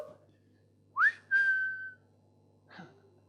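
A person whistles during a live music gig, a quick rising note followed by a longer held tone, then a faint short note after a pause, close and clear.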